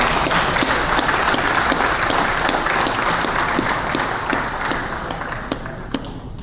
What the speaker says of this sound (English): Please join me with a round of applause on this remarkable achievement.